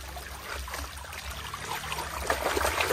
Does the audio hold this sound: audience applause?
no